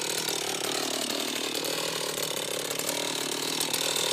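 A Stihl chainsaw runs at high revs in a constant, loud, close whine while cutting into protective test pants, with no speech over it.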